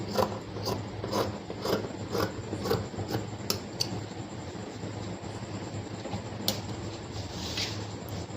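Scissors cutting through blouse fabric during hand cutting, a steady series of rasping snips and rubbing strokes, close and moderately loud, with no talk.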